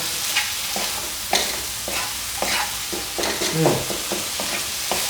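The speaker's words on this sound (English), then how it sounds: "Add in 1 teaspoon of sugar. Turn up the heat. Give it a good stir." Salt and pepper prawns stir-fried with a teaspoon of sugar over high heat: a steady loud sizzle broken by sharp spatula scrapes and clacks against the pan at an irregular pace, with no voices.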